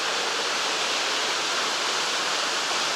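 Water pours steadily down a forest waterfall from a roadway above, a dense, continuous rushing hiss with no voices, holding even and fairly loud throughout.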